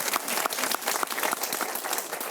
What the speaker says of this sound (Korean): 박수 한번 쳐줘야겠는데.